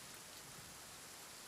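Steady, faint rain falls in the video game Genshin Impact as an even hiss with no talking.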